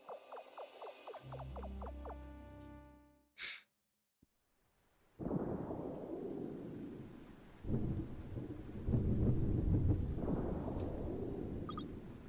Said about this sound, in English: It's raining. Just like that day.